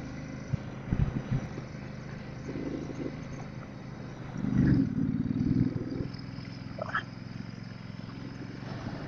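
A motorbike engine labours uphill in thin high-altitude air on the road from Tawang to Bumla Pass, a low steady drone that swells into a louder, harder-working rev midway before settling again.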